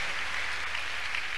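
A church congregation claps their hands to God, making a steady, even wash of applause that sounds faint and somewhat distant, with no pauses across the short stretch.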